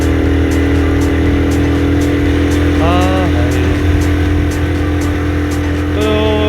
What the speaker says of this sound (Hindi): लेकिन हम लोगों ने गियर डाउन किया और अब स्पीड ज़्यादा हो रही है।